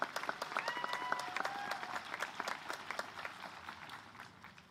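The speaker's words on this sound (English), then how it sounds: "please give them a round of applause for doing this" An audience at a university commencement ceremony claps in a brisk round of applause that is dense at first and thins out gradually, with a few whistles near the start.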